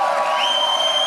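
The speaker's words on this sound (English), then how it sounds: "you notice the crowd in Chicago are firmly behind Trump" Crowd cheering at a Trump rally in Chicago, a brief, loud, continuous wash of massed voices and whoops with no gaps.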